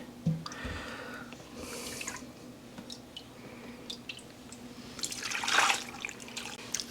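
Turkey stock ladled out of a pressure cooker in a home kitchen: close liquid splashes, drips and pours with a few metallic clinks of the ladle, no talking.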